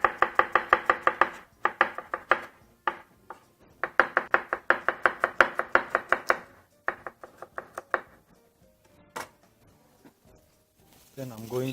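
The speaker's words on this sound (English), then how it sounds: "So I'm going to slice some onions." Onions sliced with a knife on a cutting board, fast regular rhythmic chopping taps in long bursts with short pauses, close and clear, tapering into a few scattered cuts.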